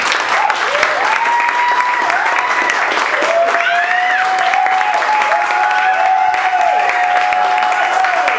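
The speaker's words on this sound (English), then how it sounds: "Please give an ardent, appreciative applause to Mark Bibbins." A poetry reading audience in New York City claps loudly and continuously for a poet, with whoops and whistles rising over the dense, sustained applause.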